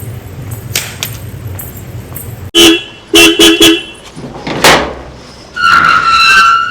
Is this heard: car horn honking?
yes